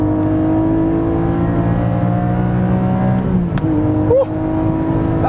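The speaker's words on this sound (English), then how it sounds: "But just listen to this engine." A 2020 Porsche 718 GTS with its 4.0 six-cylinder engine revs steadily under load, a loud, close, continuous drone that shifts pitch near the end, with some wind and road noise mixed in.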